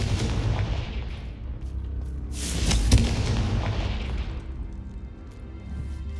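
Confringo blast spell cast in the video game Hogwarts Legacy, a booming explosive burst that swells near the middle and rumbles loudly before fading out.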